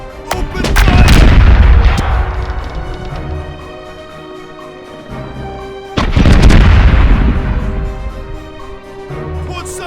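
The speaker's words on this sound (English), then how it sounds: "Starboard cannons are ready to fire!" Ship cannons fire a broadside in the pirate sea-battle game Corsairs Legacy, set in the Caribbean: two heavy rolling volleys of booming blasts with crackling bursts, loud and close, each trailing off into a rumbling decay.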